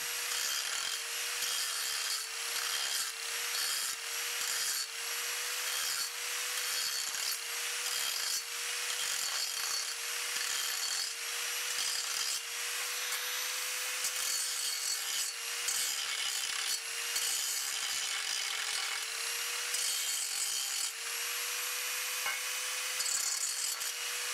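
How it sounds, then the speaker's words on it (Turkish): An angle grinder working a steel profile before welding, a continuous loud abrasive grinding with a steady motor whine and rhythmic rasping strokes throughout, close up with no talk. "Bu yaptığımız işe taşlama deniyor."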